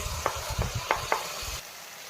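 A paste of ginger, garlic and tomato sizzles in a hot pan during palak paneer cooking, steady loud frying with a few sharp spatula scrapes and stirs, then stops abruptly near the end.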